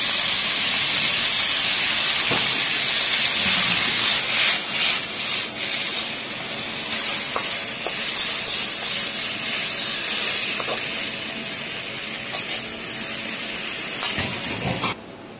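Water sprinkled onto noodles stir-frying in a hot wok for a Chinese dish, giving a loud, steady steam hiss and sizzle that runs continuously and fades slightly before cutting off at the end.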